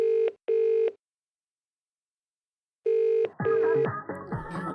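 A telephone rings in two short bursts, falls silent for a couple of seconds, then rings once more before a voice and other sounds cut in.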